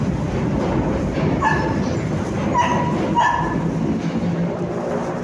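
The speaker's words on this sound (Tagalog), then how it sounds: "Napakainin ko yung dalawang aso." Two dogs let out a few short, sharp yips and barks close by at feeding time, spaced apart over a steady background rumble.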